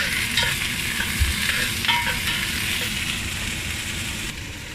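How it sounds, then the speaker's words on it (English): Onions land in hot chorizo and oil in a pan. A dense, loud sizzle and frying hiss runs throughout, with a few stirring clinks close by and no talking. "Onions in on top of the paprika and oil."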